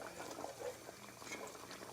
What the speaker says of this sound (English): So my chicken broth is boiling.